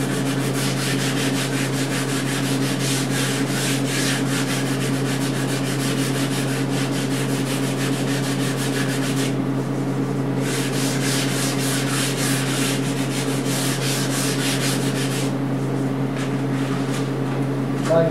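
Steady sandpaper rubbing on a Martin D-28 acoustic guitar during a neck reset and refret repair, continuous close scratchy strokes that pause briefly mid-way and near the end over a constant background hum.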